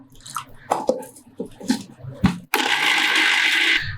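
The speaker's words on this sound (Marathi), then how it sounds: "हे सर्व मिक्सरला आधी बारीक करून घेऊया त्यामध्ये थोडं पाणी घालते" After some short clinks and knocks, a mixer grinder starts up with a loud, steady whirring that runs to the end, grinding chutney ingredients with a little water into a fine paste.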